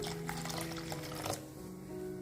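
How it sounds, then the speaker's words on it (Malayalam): Water pours into fish curry masala in a pan to make the gravy, a short close splashing pour that stops abruptly, leaving a quiet simmer and no talk. "ഇനി ഗ്രേവിക്ക് ആവശ്യത്തിനുള്ള വെള്ളം ഇപ്പൊ ചേർത്ത് കൊടുക്കാം"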